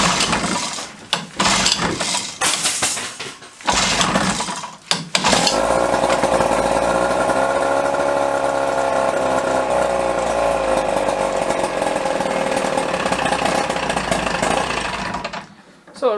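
A boat engine is cranked with choke on a cold day. After a few rough, choppy bursts it catches and settles into a loud, steady, droning idle for about ten seconds before cutting off.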